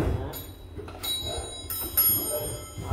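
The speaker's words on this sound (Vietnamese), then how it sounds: "bốn cái chuông này bằng đồng rồi, nên nó mới vang, nó kêu ngân này" Brass bells on a wooden clock ring in several bright strikes with long, shimmering overtones that linger between hits, heard fairly close at moderate volume over faint room noise.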